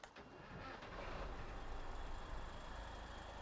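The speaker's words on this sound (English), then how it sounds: "And let's boost up the engine." A heavy truck engine in the off-road driving game SnowRunner revs up, a loud, steady rumbling drone that swells after the first half second and holds strong with no talking.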